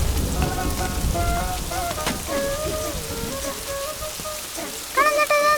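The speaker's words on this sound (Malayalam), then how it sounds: "കണ്ണൻ ചേട്ടാ, അതേ നല്ല മഴ തന്നെട്ടാ, നനഞ്ഞ് തീയുന്നു." Heavy rain pours steadily nearby, a dense hiss of drops on surfaces, while voices and a whistling tone sound over it.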